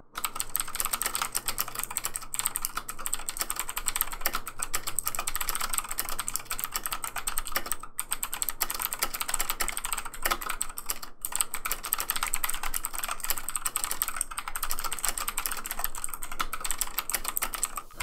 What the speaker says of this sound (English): Try to notice the more pronounced click sound from the Kumara.